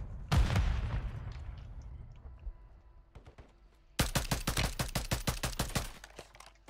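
Pulemyot machine gun firing in the Call of Duty Warzone gulag: a loud opening burst, a short pause, then a steady rapid string of about fifteen close shots.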